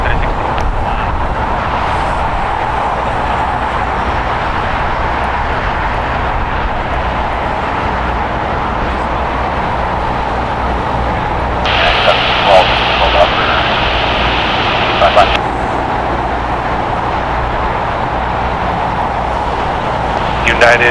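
A passenger jet takes off from a runway at LAX, a steady broad engine roar that holds for the whole stretch and swells slightly near the middle, with voices talking over it.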